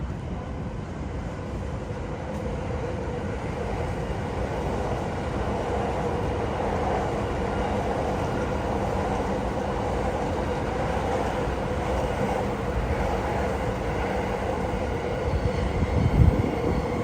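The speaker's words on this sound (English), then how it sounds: "It's really like a train passing every other minute here." A train rumbles past near Tokyo Station on the busy Yamanote Line, a continuous loud roar of wheels and cars lasting the whole stretch with no talk over it.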